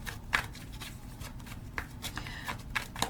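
Tarot cards being shuffled close up for a reading: rapid papery riffles and soft slaps in quick, uneven bursts, fairly quiet and with no talking.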